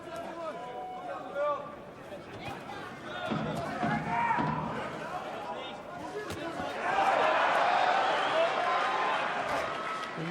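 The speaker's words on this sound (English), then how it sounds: "the crowd responding to everything that Braehmer does" Boxing arena crowd cheering for Juergen Braehmer during his fight with Robin Krasniqi, a steady roar that swells loudly in the second half, under continuous ringside commentary.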